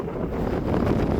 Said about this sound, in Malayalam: ഇവിടെ ഭയങ്കര കാറ്റ്